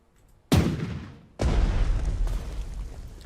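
A unit fires in the Panzer Strategy wargame: two heavy booming gunshot blasts, one sharp and short, the second followed by a long rolling rumble.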